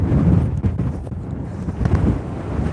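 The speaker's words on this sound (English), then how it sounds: "The wind was immaculate today, but at least it's warm" Strong wind buffets the microphone beside Wyoming Highway 212 near Cheyenne on a warm day, a loud, continuous low rumble with gusty surges throughout.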